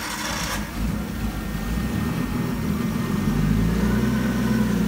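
A Nissan 240SX with a swapped RB20DET engine cranks and catches, then settles into a rough idle that builds into a rising rev, heard close and without talk.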